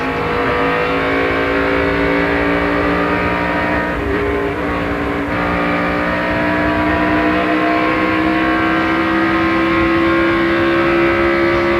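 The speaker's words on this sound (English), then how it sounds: "Accelerating flat out." A race car at the 2000 Lysol 200 accelerates flat out, its engine a loud, sustained, rising drone with strong harmonic whine that stays dominant throughout, with no talk.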